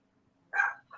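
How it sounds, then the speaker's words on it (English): A single short dog bark, fairly faint and slightly distant, breaks an otherwise quiet room, followed by a brief yip at the end. "Oh, that's my dog."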